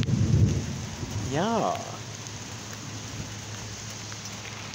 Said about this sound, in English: looks like the thunder and lightning is coming as well